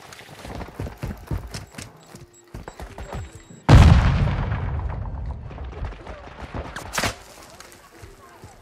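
Combat in a military video game: scattered clattering shots and impacts, then one loud grenade blast that rolls off slowly, followed by a second sharp crack.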